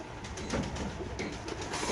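Soft pigeon cooing from caged pigeons at a pigeon market comes in low, throaty murmurs against a steady hiss of background noise.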